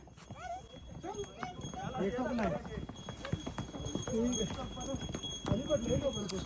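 Rhythmic hoofbeats clip-clopping steadily while people talk and call out nearby, the clatter continuing under the voices.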